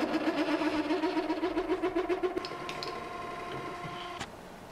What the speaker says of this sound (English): I decided I needed to bore out that hole a little bit more